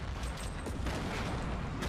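Explosions in the Fortnite Battle Royale video game, a dense continuous barrage of blasts and gunfire-like bursts filling the clip at steady loudness with no talk.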